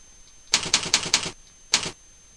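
Five rapid keystrokes on a keyboard while entering a new folder name, crisp and close, followed after a short pause by one more key press.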